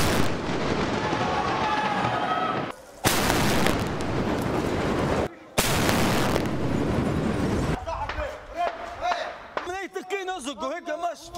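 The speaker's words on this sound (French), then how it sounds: "C'est au canon qu'ils les débusquent un par un." Tank cannon fire against sniper positions in buildings during the Libya war, loud heavy blasts with long rumbling decay in a close, repeated pattern, followed by lighter crackling sounds, with voices talking over it.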